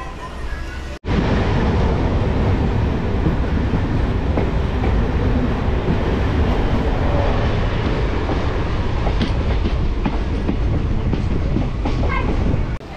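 A train runs through New Farakka Junction station with a loud, steady rumble and rattling clatter that starts abruptly after a second and holds close and constant to the end.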